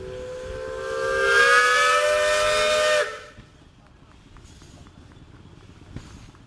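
A steam whistle at an old iron days parade in Fredonia, Kansas blows a long, loud, steady tone for about three seconds, then cuts off, leaving faint outdoor background noise.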